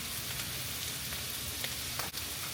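Stir fry sizzles on a Blackstone griddle after a splash of Bachan's Japanese barbecue sauce, a dense, steady close-up frying hiss with no voices.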